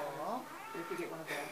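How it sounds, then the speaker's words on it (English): A shelter cat at a humane society meows in a short, wavering call, close and clear, while a person talks softly nearby. "This one's just meowing."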